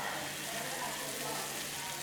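A steady, dense sizzle of food frying in the video game Roblox Restaurant Tycoon 2 fills the clip, constant and fairly loud with no pauses.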